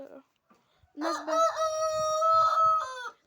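A rooster crows loudly and close in one long drawn-out call, preceded by a few short clucks from the hens around it.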